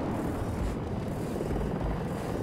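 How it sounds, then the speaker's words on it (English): Helicopter in the video game Battlefield 2042, a dense, continuous rotor and engine roar heard from inside or close by, steady throughout with no talk over it. "I'm in a chopper."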